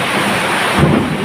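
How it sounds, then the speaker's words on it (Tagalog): Heavy rain pours steadily in the Philippines with a low rumble of thunder swelling near the end, the downpour loud and continuous throughout. "Ang ulan, lakas ang ulan dito."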